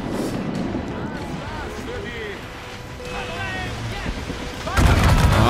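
Cannons boom during a naval battle in the video game Assassin's Creed Rogue, heavy blasts over rushing sea and wind with shouting crew voices, ending in a loud close explosion.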